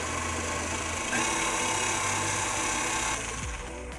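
An electric mixer blends almond extract into cake batter, giving a steady, fairly loud mechanical whir that runs the whole time and rises slightly in the middle before easing off near the end, with no talking.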